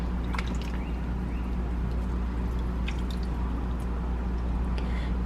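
Water soaks into potting soil in a pallet garden on a small apartment balcony, a close, soft fizz with scattered tiny drips and crackles.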